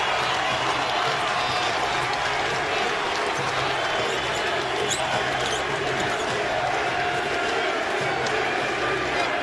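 Broad, steady crowd noise fills an NBA arena as fans applaud Derrick Rose's effort, a dense wash of clapping and murmur with commentary voices running over it throughout.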